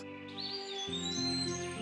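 Cartoon forest birds chirp in bright, rising and falling whistled tweets over a soft sustained musical backdrop, brief and moderately loud.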